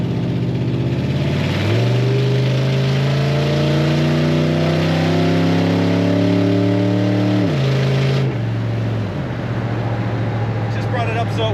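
A 1936 Ford Model 68 Deluxe street rod engine pulls hard at wide-open throttle, a loud close roar rising steadily in pitch, then dropping sharply as it shifts and settles into a lower drone.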